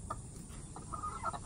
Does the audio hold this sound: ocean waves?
no